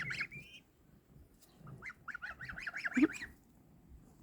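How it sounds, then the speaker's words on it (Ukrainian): Several farm geese honk in a quick run of nasal calls, fairly faint and a little distant, over low background noise. "Гуси"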